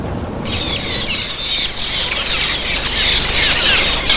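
Metallic starlings in open eucalypt forest of Cape York, Queensland, form a dense chorus of high, wheezy squeals and chatter that runs on without pause, loud and continuous.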